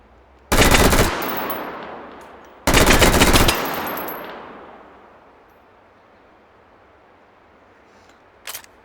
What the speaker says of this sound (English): Let's go full auto.